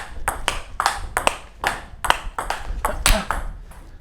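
A table tennis ball strikes a Tibhar Evolution rubber paddle about ten times in a steady rally rhythm, each hit a sharp, close, hollow tonk, with faint room noise between the strokes.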